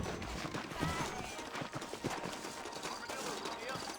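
Horse hooves clip-clop in a quick trotting rhythm in the video game Red Dead Redemption, over a busy background of ambient game sound.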